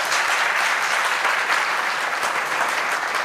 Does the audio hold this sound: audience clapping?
yes